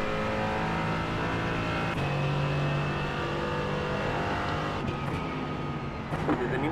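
Race car engine in a racing video game at the Red Bull Ring, a steady loud drone with sustained harmonic whine and shifting pitch as it changes gear, continuous throughout with a rougher burst near the end.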